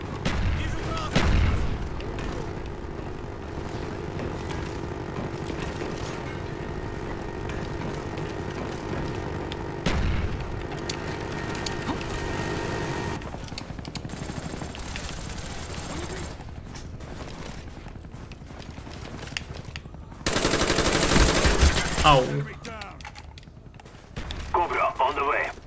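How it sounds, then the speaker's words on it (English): Helicopter chopper-gunner gunfire in a Call of Duty: Black Ops multiplayer match: dense bursts of rapid fire and explosive impacts over ongoing battle noise, with a loud burst near the end and a player talking over much of it. "That chopper gun is tearing up."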